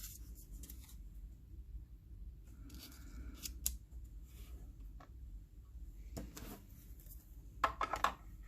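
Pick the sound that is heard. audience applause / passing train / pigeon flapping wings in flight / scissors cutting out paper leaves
scissors cutting out paper leaves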